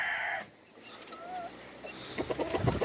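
Hens cluck and chatter nearby, with short squawks and scuffling sounds, fairly loud, without any talking.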